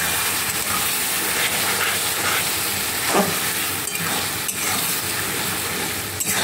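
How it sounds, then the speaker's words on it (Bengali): Ginger, garlic and tomato paste sizzles steadily in hot oil in a pan for a spicy mutton curry, a dense continuous frying hiss with occasional soft scrapes of stirring. "এটা ভালো করে এবার কষু যতক্ষণ না তেল ছাড়বে।"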